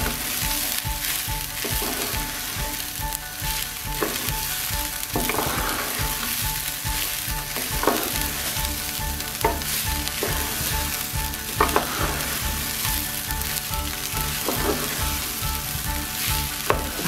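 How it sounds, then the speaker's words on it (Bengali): Bhuna khichuri sizzles steadily as it fries in a pan, with repeated stirring scrapes at a regular pace and a close, constant crackle throughout. No one speaks. "বারবার নেড়ে দিতে হবে, না হলে নিচে পুড়ে যাবে।"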